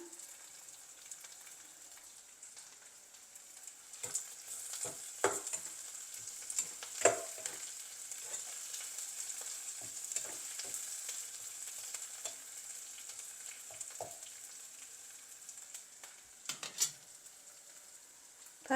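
Prawn biryani ingredients frying in a pan, with a steady sizzle throughout and intermittent scraping and clinking as they are stirred, close and fairly quiet, with no talk.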